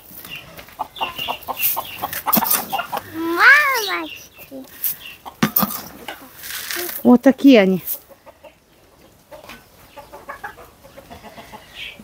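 Chickens and a rooster call close by, with a few loud squawking cries and clucks scattered among quieter rustling, while someone speaks briefly.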